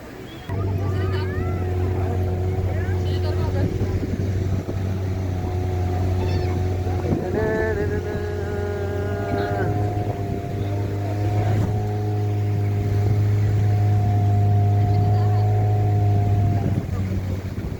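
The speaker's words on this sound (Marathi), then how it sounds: "आपण चाललो आहे आता बोट रायडिंग." A motorboat ride off Shiroda beach in Konkan, with a loud, steady engine drone and tonal hum running throughout, water noise underneath, and people talking over it.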